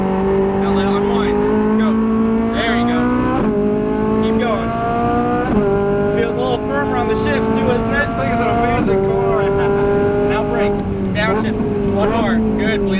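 A Ferrari 458 Italia's engine wails around a race track, climbing in pitch and dropping sharply at each upshift, while a driving instructor talks over the engine.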